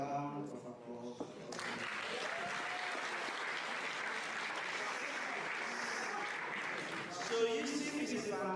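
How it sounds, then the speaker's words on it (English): An audience at a Sierra Leone tourism investment expo in the UK breaks into sustained applause for a performer, a dense, even roar of clapping that starts after a brief lull and runs for several seconds before fading into other sound. "I hope I will not be committing a crime if I should ask for another round of applause."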